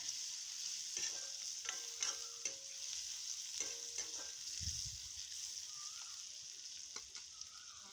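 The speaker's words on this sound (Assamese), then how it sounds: "খুন্দি লোৱা আদা নহৰুখিনি দি ধুনীয়াকৈ কেঁচা গোন্ধ যোৱালৈকে গোটেইখিনি মই ভাজি থাকিম কম জুইত" Crushed ginger and garlic frying slowly on low heat in a pan, a quiet steady sizzle with occasional stirring scrapes and a soft thump, close and faint with no talking.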